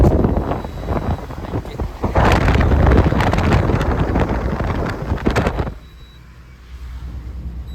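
A loaded goods vehicle drives along a road near Hoskote, its broadband engine and road rumble loud and steady with heavy wind buffeting the microphone, before the noise drops away sharply near the end to a quieter low hum.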